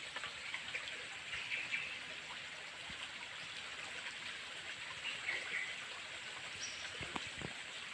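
A small river flowing nearby, a steady soft rush and trickle of water with faint scattered splashes, quiet and continuous throughout.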